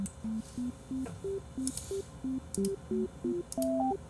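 A telephone call that will not connect gives a sequence of short electronic beeps at shifting pitches in a steady rhythm, fairly faint and clear, with no talk over it.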